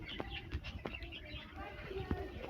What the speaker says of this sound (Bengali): তো আমার বাড়ির সব থেকে পুরনো পায়রাটাকে ধরে নিয়েছি